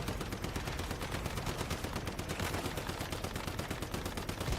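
Rapid, dense gunfire from the Warhammer 40K Rogue Trader video game, a continuous stream of loud overlapping shots sustained throughout with no pauses.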